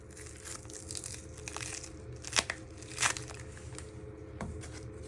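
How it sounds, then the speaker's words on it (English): Someone peels the papery outer layers off an onion in a kitchen, making soft crinkles and rustles with two sharper crackling tears. The sounds are close over a low steady background hum, and nobody speaks. "then you'll peel 2 layers of the skin off."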